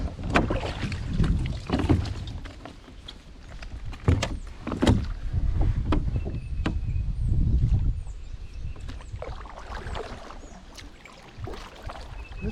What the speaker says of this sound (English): paddling a little bit